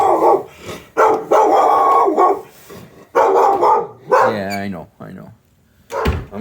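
A dog in a house's bedroom gives a short burst of barking and yelping in the middle of the clip, mixed in with people talking nearby.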